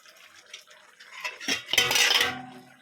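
Metal pot lid lifted off a pot of prawn malai curry on a gas stove, a few light clinks and then a louder clattering scrape of metal on metal, close and clear, with no talk.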